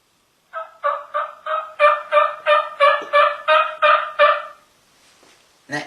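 A hunting call imitates a turkey hen with a run of about ten evenly spaced, nasal yelps that get louder through the middle and then stop. It is close and clear, followed by a short thump.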